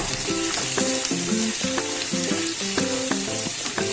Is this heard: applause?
no